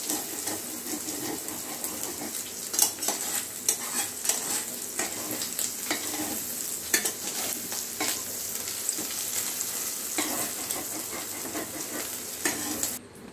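An egg fries in a hot pan with a loud, continuous close sizzle and crackle, with occasional stirring scrapes and no voices.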